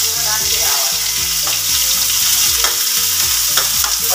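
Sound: onions sizzling and being stirred in a pan for momos

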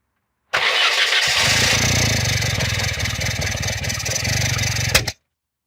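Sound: Skoda Forman car engine running

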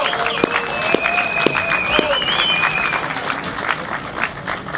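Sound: audience applauding at Stuttgart 21 demonstration

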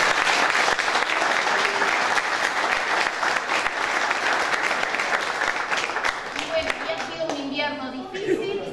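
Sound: applause

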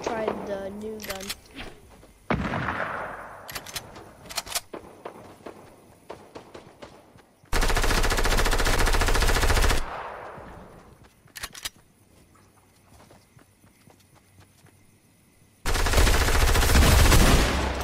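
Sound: gunfire from a new gun in the video game Fortnite

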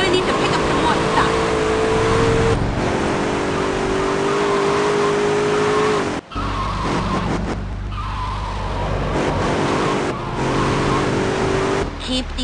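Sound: vehicle engine running in the video game GTA Liberty City Stories

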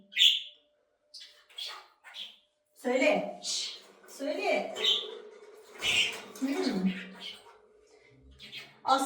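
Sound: bird chirping

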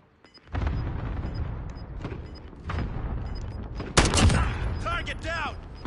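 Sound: cluster strike explosions in Call of Duty video game

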